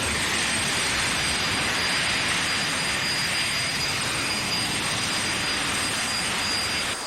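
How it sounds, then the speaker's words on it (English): A drag-racing jet car's engine roars steadily and loud during the pre-race firefight, raw kerosene igniting in the afterburner, a continuous broad blast with a high whine on top and no pauses. "the drivers dump raw fuel, that's kerosene, into their afterburner and light it on fire"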